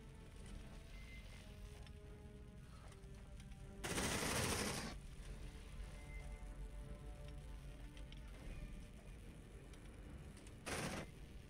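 A sentry gun fires in the video game Aliens Dark Descent, one sustained burst of rapid fire followed much later by a short second burst, over a steady droning game ambience.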